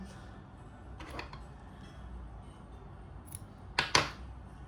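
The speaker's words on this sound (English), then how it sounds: "Then you cut the yarn." Scissors snip through crochet yarn, two or three quick faint cuts near the end against a quiet room background, no talking.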